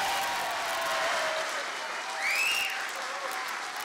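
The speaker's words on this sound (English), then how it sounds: "And you heard this cheer." Crowd cheering and applause at Eric Holder's swearing-in as Attorney General, a dense, fairly distant wash of clapping with a few whoops rising over it.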